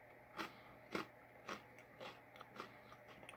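Quiet, close bites and crunches of a seaweed soy sauce rice cracker from an Imperial mix, about six crisp snaps spaced roughly half a second apart, softening toward the end, with no talking.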